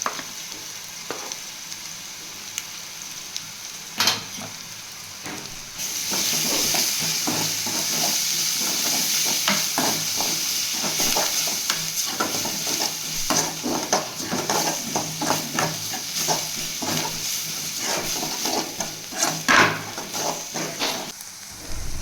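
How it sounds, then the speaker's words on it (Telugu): Onions with ginger-garlic paste fry in a pan, a sizzle that swells sharply after a few seconds and then carries steady crackling with repeated stirring scrapes and utensil taps, close and continuous. "ఈ ఆనియన్స్ని మగ్గనివ్వండి"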